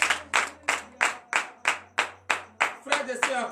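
During a morning prayer service, a congregation claps in unison, strong sharp beats about three per second, with voices acclaiming underneath and growing busier toward the end.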